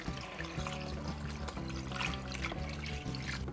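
Three cups of pickle juice pour over raw chicken pieces in a container, a soft, steady trickle and splash running continuously at low volume with a faint background hum.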